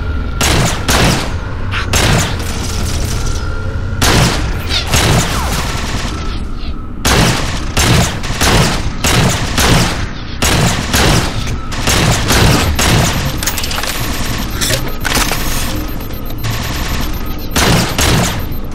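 Sustained bursts of gunfire from the Halo 4 video game, loud and dense, with rapid volleys and booming shots repeating throughout, over a continuous game soundscape and a voice talking intermittently.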